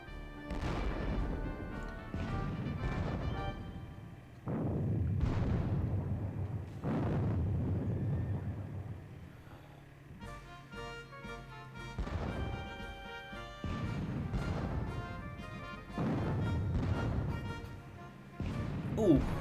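Repeated booming cannon and artillery fire from a Napoleonic Battle of Borodino wargame, heavy blasts arriving every second or two with rolling low rumble between them, loud and continuous.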